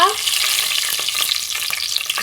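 Whole garam masala sizzles and fries in hot oil for biryani, a steady close crackle and hiss with faint stirring.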